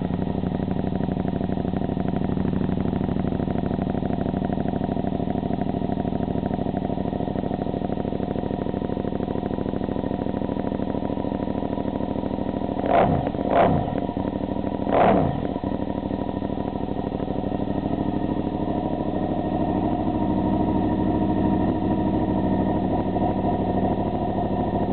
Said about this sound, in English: We can listen to this bad boy run.